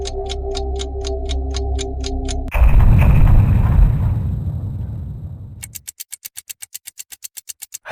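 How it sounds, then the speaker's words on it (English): Naval warship guns bombard a palace in a loud explosion that erupts after a ticking clock and rumbles on for about three seconds before fading, then the ticking returns. "the Navy warships opened fire on the palace, reducing it to rubble almost instantly"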